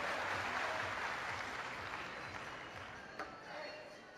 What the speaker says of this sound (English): Both players back at the table, applauded by the audience in Incheon